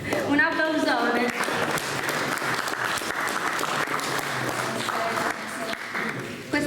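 An audience at a Sardinian poetry and song commemoration breaks into sustained, dense applause, loud and continuous throughout, with a voice briefly heard early on.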